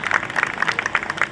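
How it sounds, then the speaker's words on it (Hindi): An audience at a church Christmas event in Karachi's YMCA hall claps for children, a short burst of fairly close, lively applause with distinct individual claps. "जोरदार तालियां"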